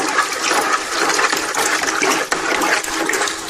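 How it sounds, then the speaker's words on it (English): Liquid in a brewing vessel stirred vigorously into a whirlpool, giving a loud, continuous close-up churning and sloshing rush of water throughout, with no talking. "And apparently give that a really good stirring."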